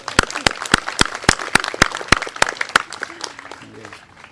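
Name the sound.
audience applause at pinning ceremony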